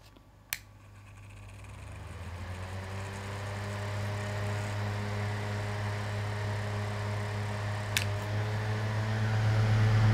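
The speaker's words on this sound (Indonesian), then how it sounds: "Kipas angin ini memiliki dua percepatan, 1 dan 2." A Sekai electric fan starts after a click and spins up to a steady hum and whir, growing gradually louder toward the end, with another faint click midway.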